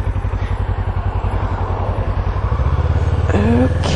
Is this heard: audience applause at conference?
no